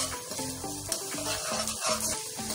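Garlic fries in a pan for fried rice, a steady close sizzle broken by the clatter of a utensil stirring against the pan, with no talking.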